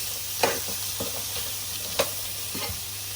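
Sausages lightly browning in a pan for curried sausages, a steady low sizzle with a few sharp utensil taps and scrapes spaced through it, no voices.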